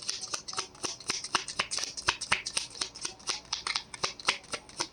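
Playing cards being shuffled for a spiritual card reading, a close, busy run of crisp riffling flicks and slaps that carries on steadily throughout with no talking.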